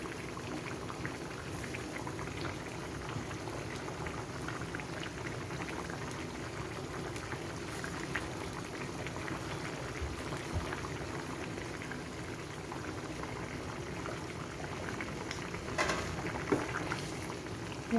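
Vegetable kofta curry gravy simmering steadily in a pan, a continuous soft bubbling and popping that stays even and close for the whole stretch, with no voices over it.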